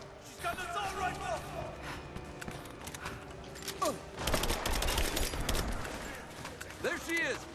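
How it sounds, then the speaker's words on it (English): Assault rifle fire in Rise of the Tomb Raider during a prison break, scattered shots and a dense burst of rapid fire midway amid clattering game effects and shouting, with voices talking throughout. "She's got an assault rifle."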